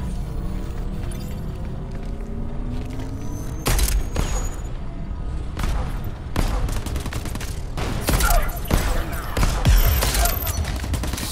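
Security troops open fire in Crackdown 3, with repeated loud gunshot bursts and booms over a constant rumble of combat noise for the whole stretch.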